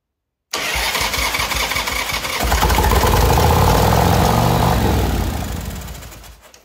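A 1985 Harley-Davidson Sportster 1000 motorcycle under restoration cranks and fires up. The starter whirs loudly, then the V-twin catches and swells into a rough, loud idle nearby before easing off.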